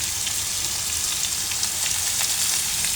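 Cumin powder sizzles in hot oil for a pointed gourd and meat curry, a close, even frying hiss with fine crackles running steadily throughout.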